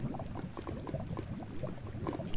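Lava bubbles and gurgles steadily in a Minecraft cave, a dense low simmering texture with scattered pops, close and continuous throughout with no talking.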